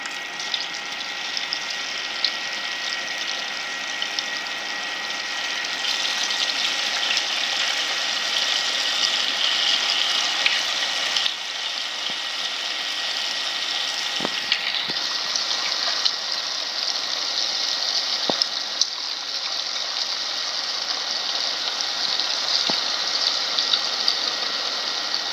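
Raw potato snack pieces deep-fry in hot oil, producing a continuous bright hiss that swells after the first few seconds and stays steady, close up, with a few faint clicks and no talking.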